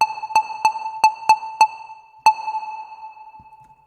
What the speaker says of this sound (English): And now reverb.